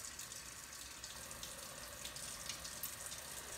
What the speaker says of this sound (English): You can see how some of the water's kind of splashing back at me.